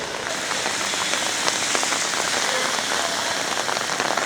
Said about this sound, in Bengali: বৃষ্টি পড়াতে খুব ভালো লাগতেছে